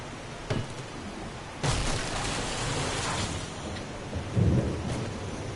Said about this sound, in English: Thundering.